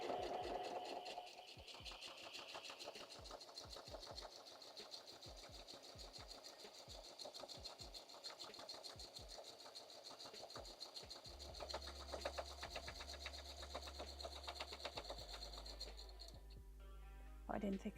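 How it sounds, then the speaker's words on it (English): A sewing machine stitches around the edges of a handmade watercolor-pencil art journal, running steadily and rapidly for a long stretch, close and fairly loud, with a low hum shifting near the end. "This is how I keep sewing because I don't sew in a straight line when I do my edges."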